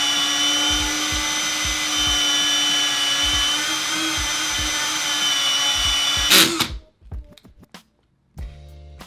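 A torque wrench power tool with a clutch setting spins a tire during tire break-in prep, a steady loud whine for about six seconds, then stopping abruptly, followed by a few short bursts and clicks.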